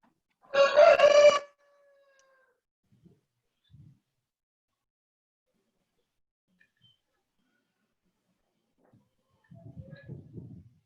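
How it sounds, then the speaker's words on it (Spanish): A rooster crows once, loud and close, near the start, followed by a few faint sounds and a low rustle at the end. "ese gallo está cantando temprano"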